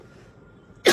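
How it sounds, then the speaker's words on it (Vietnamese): A single sharp cough bursts out near the end after a stretch of quiet room tone, close and loud with nothing else happening. "sao em ho dữ vậy trời."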